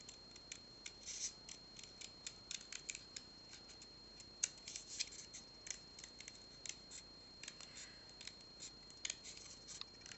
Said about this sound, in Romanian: Deci vom tăia cu foarfecul de jur împrejur.